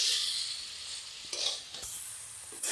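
Mutton kosha, a spiced Bengali meat curry, sizzles loudly in a pan while being stirred hard, with bright steady frying hiss and a few scraping strokes close by.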